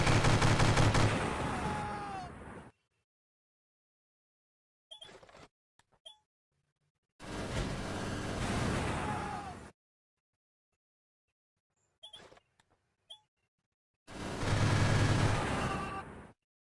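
Bursts of gunfire hit a mech in the strategy game Waritorium, three sustained volleys of a few seconds each separated by silence and brief clicks, loud and close.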